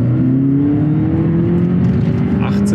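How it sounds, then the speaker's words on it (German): The petrol engine of a 250 PS VW Golf GTE plug-in hybrid cuts in and pulls hard at full throttle, a close, loud engine note climbing steadily in pitch as the car accelerates. "Guck da, jetzt geht der Motor an."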